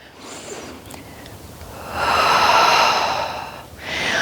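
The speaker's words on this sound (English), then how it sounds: "Exhale out through your mouth." A deep Pilates exhale pushed out through the mouth during a ring workout, a close, loud, breathy rush that swells and then fades, with a second breath starting at the end.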